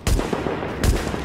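Two gunshots from a video game weapon fire in quick succession, one right at the start and another about a second later, sharp and loud against a steady background rumble in a dark zone.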